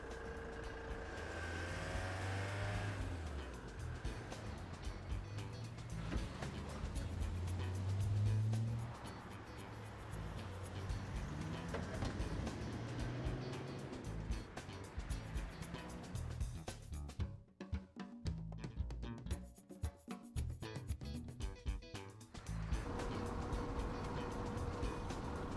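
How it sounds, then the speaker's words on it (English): A 1998 Nissan Patrol towing a caravan on a long road trip, its engine and road noise forming a steady cabin drone that rises and falls with speed, dipping briefly near the end. "This is Roy's 98 Patrol tow vehicle that we're using to pull the van."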